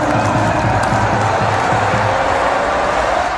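At a Shrewsbury School football match against Hampton, a dense, loud crowd roars and cheers without pause, with murmuring and shouts blended into one continuous wall of noise.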